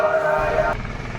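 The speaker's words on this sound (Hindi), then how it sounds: "हेलीकॉप्टर ने अपनी सेवाएं चालू कर दी है और आज लगता है पूरे दिन हेलीकॉप्टर उड़ने वाले हैं" Helicopter flying at Kedarnath, a steady rotor drone that holds loud and even for most of the clip before dropping off to a quieter rumble near the end.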